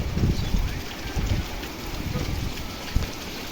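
Rain pours down in a dense, steady hiss, with gusts of wind thumping the microphone now and then.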